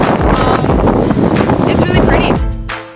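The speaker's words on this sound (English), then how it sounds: "It's a little windy here" Strong wind gusts buffet the microphone on a beach, a loud roaring rush with irregular surges that cuts off abruptly near the end.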